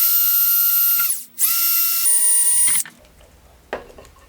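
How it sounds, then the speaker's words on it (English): A power drill bores through plastic lids for a DIY tarantula sling enclosure. It gives a loud, high whine that dips briefly, spins up again and then cuts off, followed by a short scrape and a click. "I'm going to go ahead and finish drilling a couple of these up"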